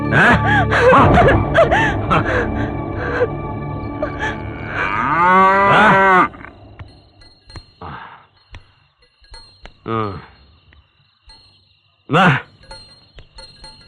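A bull in a Malayalam film scene gives several loud, drawn-out moos, the longest near the middle and shorter calls following, with groaning and gasping sounds between them.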